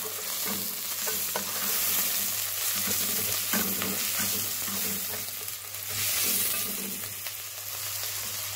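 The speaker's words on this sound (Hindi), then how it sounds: "इन्हें भी अच्छी 5 मिनट भून लें।" Browned onions with garlic-ginger paste fry in a pan for a wings salan, a steady close sizzle with occasional stirring scrapes throughout, no voices.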